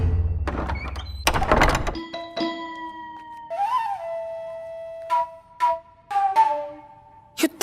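A heavy door thuds shut near the start, a short loud bang and rattle, followed by quiet ringing tones and sparse soft sounds.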